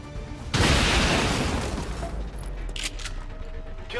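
A single loud soldier's gunshot in XCOM 2 erupts sharply and decays into a rumbling tail, followed by fainter clicks and thuds.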